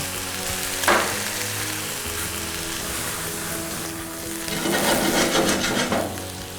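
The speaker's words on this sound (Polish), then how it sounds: "Zdeglasuję jeszcze dodatkowo tą patelnię starką." Vegetables in a frying pan deglazed with Starka vodka give a loud, steady sizzle with stirring scrapes, rising into a fiercer hiss in the last couple of seconds.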